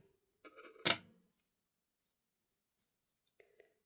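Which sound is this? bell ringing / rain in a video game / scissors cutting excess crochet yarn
scissors cutting excess crochet yarn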